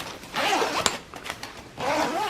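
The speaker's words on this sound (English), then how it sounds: "These zippers on the inside work really, really well." Zipper on a Travelpro Maxlite 5 carry-on rolling garment bag being pulled in two close, raspy strokes with a brief tug and clicks between them.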